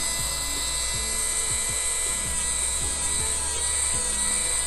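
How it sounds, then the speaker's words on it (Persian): A nail file works a square acrylic nail, giving a steady high whine with a low hum beneath and repeated short dipping strokes as it touches and lifts off, close and even throughout. "الان با صدای سوهان من میتونید متوجه بشین که داره تماس برقرار میکنه و جدا میشه"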